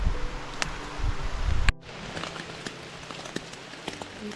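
Rain patters steadily on a taut backpacking tent surface in Susquehannock State Forest, Pennsylvania, a soft hiss with sharp individual drops ticking nearby.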